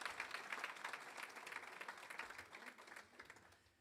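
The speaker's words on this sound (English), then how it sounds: "So give her a round of" An audience at a university Founders Day award celebration claps for a former First Lady, a modest, fairly quiet round of applause that thins out over a few seconds.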